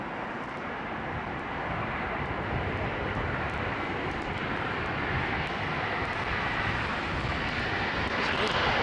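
A Thai Airways airliner passes low overhead on arrival to Heathrow runway 27L, its engine roar a broad, steady rush that swells slightly as it nears.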